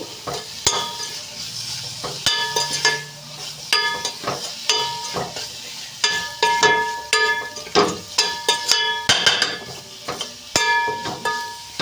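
Chili powder and spices fry in a pan for a stuffed brinjal curry, with a soft sizzle beneath a spoon stirring and scraping against metal in repeated clinking strokes, close and steady with no talk.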